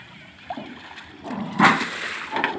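Water gushes and splashes from a hand-operated lever water pump, with sloshing bursts rising around the middle and recurring near the end, close and moderately loud.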